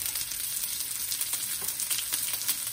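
The white stems of chopped bok choy sizzle steadily in a hot frying pan for egg fried rice, with a bright continuous crackle and small pops as they are stirred.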